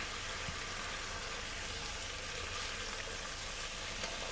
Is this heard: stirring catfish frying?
yes